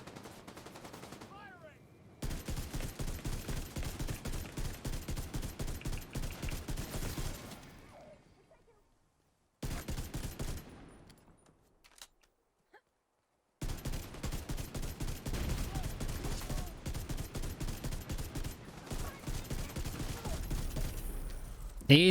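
Rapid automatic fire from the Ravenous exotic rifle in The Division 2, loud sustained bursts of closely spaced shots separated by short pauses, with a brief quieter stretch midway.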